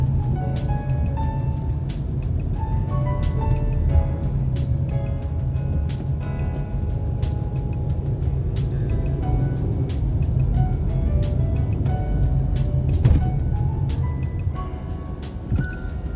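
Steady traffic noise on a busy road in Sharjah, a continuous low rumble of passing vehicles with scattered higher tones and occasional sharp clicks, fairly loud and constant throughout.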